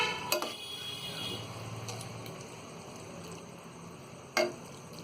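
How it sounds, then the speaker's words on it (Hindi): Minced meat curry with potatoes and fresh coriander gets stirred in a pan, giving a few sharp spoon clinks against the metal over a soft, steady background scrape. "तो हरा धनिया डालने के बाद में हम इसे अच्छी तरह मिक्स कर देंगे।"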